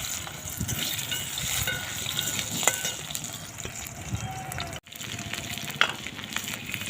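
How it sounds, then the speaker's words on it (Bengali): Potatoes frying in oil with salt and turmeric give a steady, close sizzle throughout, with faint clicks and small splashes from stirring. "প্রথমে দিয়ে দেবো আলু, নুন হলুদ দিয়ে ভেজে নেব।"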